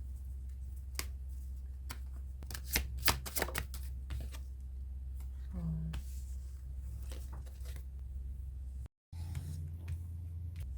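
Tarot cards being shuffled and drawn by hand, with crisp snapping flicks and a quick burst of riffling cards, close and fairly quiet over a steady low hum, followed by brief faint rustles.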